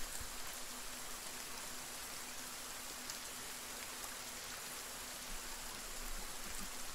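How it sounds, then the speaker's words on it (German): Steady rain falling in the survival game Sons of the Forest, an even hiss of drops on surfaces that holds at the same level throughout with no talk over it. "Soll es nicht gerade aufhören zu regnen?"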